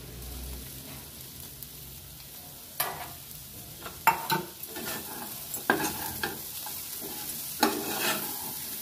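Cluster beans fry stirred in a pan, with soft sizzling under scattered scraping and clinking strokes of a spatula, moderately close and without talk.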